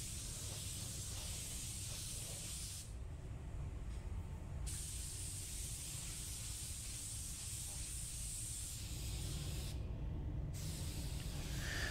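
Createx candy gold paint sprays steadily from a spray gun for the whole stretch, a continuous loud airy hiss with two short dips where the trigger eases off.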